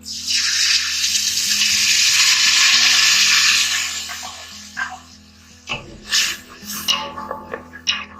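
Curd hits cooked powdered spices in a hot pan for chana madra, a loud hissing sizzle that swells and then fades over several seconds, followed by scattered spoon stirs and clinks against the pan over faint background music.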